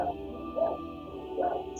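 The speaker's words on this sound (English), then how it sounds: "I hear dogs from your end." Dogs bark and yip in the background of a voice call, two or three brief, distant barks spaced out over a steady low hum, fairly faint.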